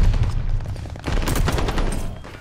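Dense bursts of rapid MP40 submachine gun fire in a Call of Duty Vanguard multiplayer match, loud and close, with a short pause before a second heavy burst.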